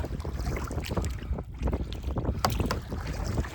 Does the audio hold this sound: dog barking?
no